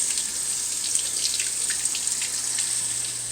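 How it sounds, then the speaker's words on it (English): Cool tap water runs steadily over a head of cabbage being rinsed in a kitchen sink, a continuous close splashing hiss with no voices. "rinse it with cool water"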